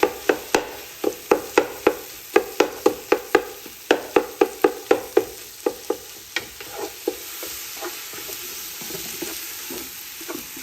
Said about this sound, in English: I'm just sauteing the meat in here